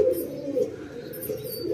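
Hablook pigeons coo in low, rounded bursts at close range, a steady murmuring call with faint bird chirps above and no talk.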